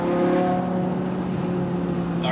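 Inside a BMW E60 M5 with its modified exhaust, a steady droning engine note rumbles through the cabin at constant speed, loud and unbroken, with no talking.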